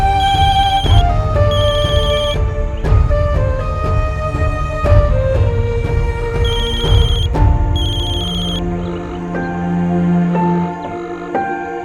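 A loud electronic ringtone plays a repeating melodic pattern of bright tones, continuing for several seconds without any voices.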